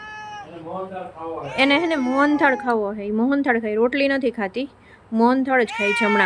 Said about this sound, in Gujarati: અહીંયા બિલાડી આવી ગઈ, મ્યાઉ મ્યાઉ કરે છે.